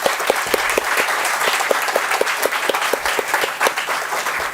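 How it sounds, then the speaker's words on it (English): Sustained audience applause at a conference on ecological urbanism, dense clapping from a crowd with sharper individual claps standing out, steady and fairly loud throughout. "Can we have a very sound applause?"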